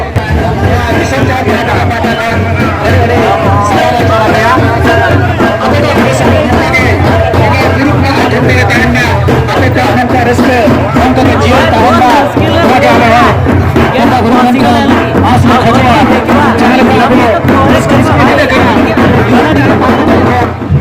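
A dense crowd packs the gate of the Disom Jaher festival, a loud, constant babble of many overlapping voices with someone talking close over the hubbub.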